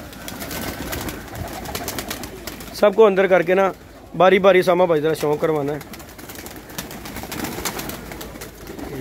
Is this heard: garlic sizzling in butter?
no